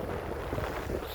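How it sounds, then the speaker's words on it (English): Wind blowing across the microphone by the water while fishing for stripers, a steady low rushing buffet with gusty rumble, no other sounds standing out. "It's a bit windy."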